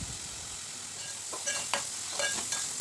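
Curry leaves frying in hot oil with crushed onion paste for a fish curry: a steady close sizzle, with a few sharp crackles and spoon scrapes near the middle and end.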